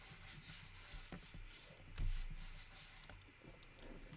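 A glued cardstock background panel rubbed firmly by hand, giving close, quiet scraping and brushing strokes in an irregular rhythm with a slightly stronger push midway, no talking.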